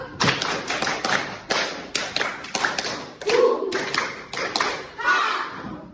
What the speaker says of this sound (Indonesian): Dan kita harus bertepuk tangan supaya kalian semangat belajarnya.